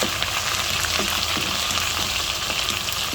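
Small shrimp (alamang), washed beforehand, sizzle in a pan as they are sautéed for bagoong, giving a steady, dense crackling hiss that runs continuously at close range with no talk.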